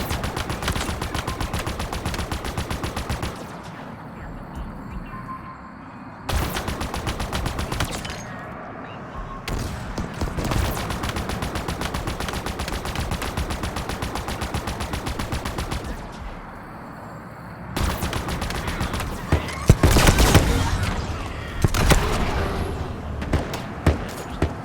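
Rapid, sustained automatic fire from a Ghost vehicle in the video game Halo Infinite, loud and continuous in long bursts separated by brief lulls, with dense combat noise throughout and no talking.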